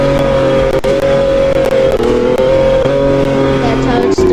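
A car in the Roblox game Driving Empire revs steadily in seventh gear with manual shifting, a loud sustained engine drone with brief dips, while a voice talks over it.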